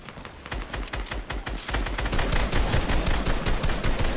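Fortnite gunfire from several weapons at once, a dense and loud rapid rattle of shots, with no voices.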